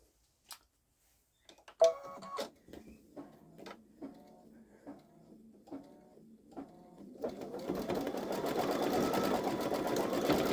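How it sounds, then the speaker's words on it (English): A Babylock Solaris Vision embroidery machine stitches out leaves, beginning with sparse clicks and then settling into steady rhythmic ticking pulses before a denser, louder whirring run, close and quiet, with no talk. "it's stitching out the leaves"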